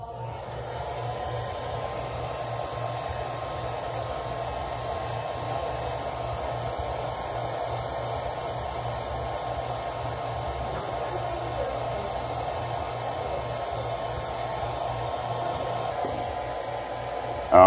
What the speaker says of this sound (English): with your heat gun on low, 3 to 5 inches away from the device, you're gonna heat it gently, take your time